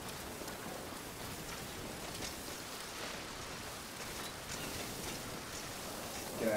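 Steady rain falls in the GTA Online video game, a soft, even hiss of drops on surfaces that stays faint and constant without talk.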